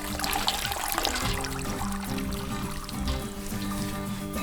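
Water sluicing and trickling off a farm-raised chicken as it is lifted out of a hot scalding pot, a steady loud splashing drain that runs for several seconds close by, with no talking.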